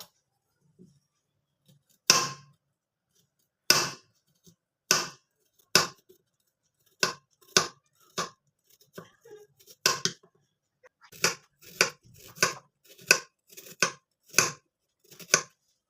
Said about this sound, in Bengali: এবার গাজরগুলোকে ছোট্ট ছোট্ট করে কেটে নিতে হবে, সেই জন্য আমি ছোট ছোট করে কেটে নেব।